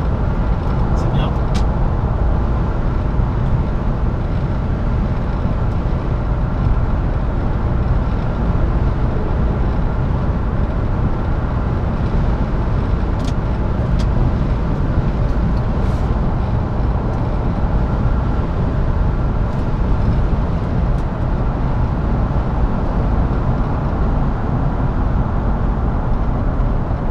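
A 1998 BMW 323i E36 Touring with automatic gearbox and M52 engine cruises along a road, giving a steady, loud broadband rumble of engine and road noise that holds evenly throughout, with no speech.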